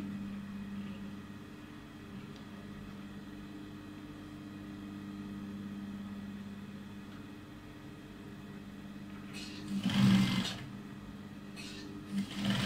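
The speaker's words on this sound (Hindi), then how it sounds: "अब इसकी स्टिचिंग शुरू करें।" A sewing machine stitching a mirror-work boutique garment, a steady mechanical hum running throughout with a louder burst near the end.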